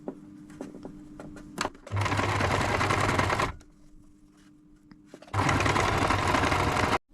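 A domestic sewing machine stitches a fabric hem in two sustained motor-driven runs, each lasting about one and a half seconds, with a steady buzzing whir close by and quiet handling noise in between.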